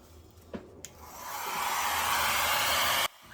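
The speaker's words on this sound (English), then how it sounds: "notice I don't have any concentrator at the end of the hairdryer" A hair dryer without a concentrator nozzle blows over an acrylic paint pour, its steady airy whoosh swelling after a couple of faint clicks and cutting off abruptly after about two seconds of full blast.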